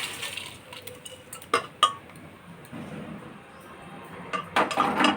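Food is poured from a wok into a bowl: several sharp metal-on-metal scrapes and clinks of the pan edge and spatula, separated by quiet gaps, with a cluster of clatters at the end.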